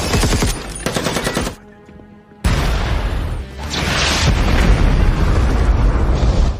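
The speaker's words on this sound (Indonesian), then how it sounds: "Akibat ledakan tadi" Loud action-film mayhem from Alarum: rapid machine-gun bursts, a sudden cut to near quiet, then a heavy explosion erupting into a sustained roaring, rumbling blast with debris, close and overwhelming.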